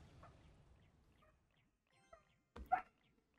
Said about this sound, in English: My dogs are going crazy.